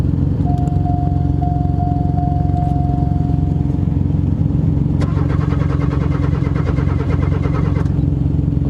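A car starter cranks slowly and laboriously in a steady rhythmic drag, loud and close, with an engine-like rumble throughout and no talking; the dragging starter is smoking.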